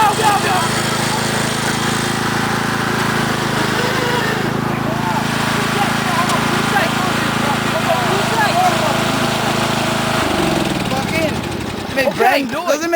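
A lawn mower's engine drones steadily while being pushed through mud, running loud and close throughout, with a shift in pitch near the end as the engine bogs and revs. Voices can be heard over it.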